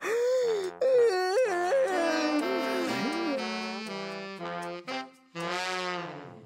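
A cartoon squirrel's long, drawn-out vocal yawn with sliding, moaning pitch, stretched over several seconds in a few breaths, close and fairly loud.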